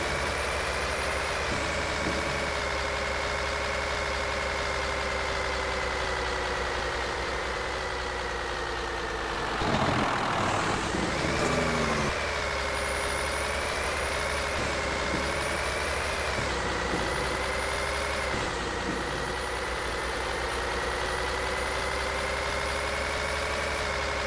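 Kenworth T-660 truck engine in Euro Truck Simulator 2 drones steadily at idle and low revs, a continuous loud hum with a brief surge and rough patch midway before settling back.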